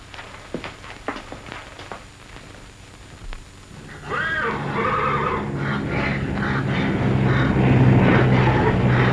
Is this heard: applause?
no